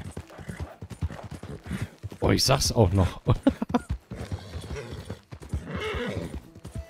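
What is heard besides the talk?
horse galloping hooves, Red Dead Redemption 2 video game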